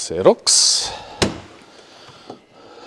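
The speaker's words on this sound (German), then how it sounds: "Jetzt machen wir hier mal schnell die Tür auf." Door of a Malibu camper van being opened, a sharp click and thunk with a brief rattle, heard close up under a voice.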